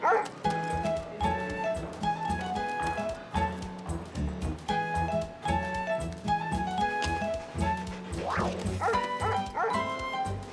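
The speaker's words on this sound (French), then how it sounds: "qu'est-ce qu'il fait ici, ce chien?" A dog barks repeatedly in quick bursts, with yips and whimpers mixed in, close and loud over a busy background, in a children's cartoon.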